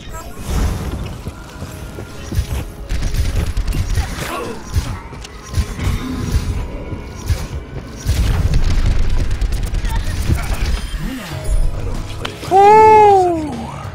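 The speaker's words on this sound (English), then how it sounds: "Helix rockets." Helix rockets in Overwatch boom and burst amid chaotic gameplay, with several loud thuds and explosions and players talking and shouting over the action.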